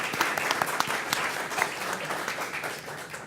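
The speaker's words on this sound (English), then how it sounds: "Let's give all of our candidates a big round of applause." Audience applause at a Denver candidate forum, with distinct individual claps standing out over a steady wash of clapping, moderately loud and continuous, no talking over it.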